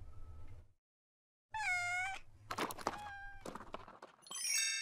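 A stray cat meows in a few separate calls, close and clear, with short pauses and a quieter low rumble underneath.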